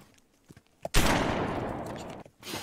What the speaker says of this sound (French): 2 coups de feu viennent de retentir dans le silence de la montagne